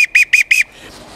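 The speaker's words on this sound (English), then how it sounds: "Also in the bag, you would have had a boatswain's whistle. This is a whistle to give orders." A boatswain's whistle sounds in four sharp, shrill, piercing bursts in quick succession, loud and close, then fades into quiet room tone.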